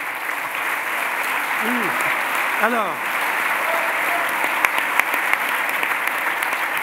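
Applause from a conference audience at an economics meeting fills the room as a steady, dense clatter of clapping, while someone speaks briefly over it.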